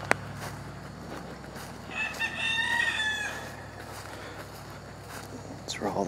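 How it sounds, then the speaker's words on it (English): Roosters crow at a distance on a farm property in the morning, a drawn-out call rising in the middle of the clip over a steady low background hum, with a brief rustle at the end. "And the roosters are still crowing."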